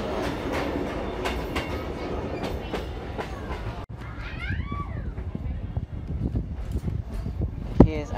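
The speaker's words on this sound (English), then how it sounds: "we entered one of 15 tunnels of the Kuranda Scenic Railway" A Kuranda Scenic Railway train in Queensland, Australia rumbles steadily along the rails with a low continuous roar, wheels squealing and clattering faintly as it runs through a dark tunnel.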